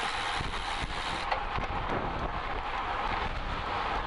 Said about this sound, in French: Et le vent, toujours le vent.